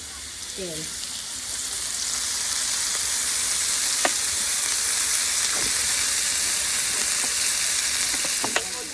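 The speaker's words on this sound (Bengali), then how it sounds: "এখন চুলায় পেঁয়াজ দেওয়া হলো তার মধ্যে দিয়ে দেওয়া হবে তেল" Sliced onions frying in oil on a clay stove, ahead of a broiler chicken curry: a steady, fairly loud sizzle and hiss that runs throughout, with a few faint clicks and pops.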